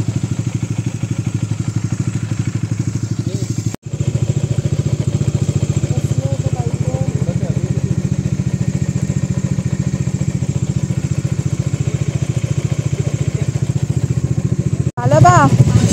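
Several motorcycles idle together with a steady low engine rumble, cut briefly by a short gap before resuming, then another break near the end as engines rev up, with people talking over the noise.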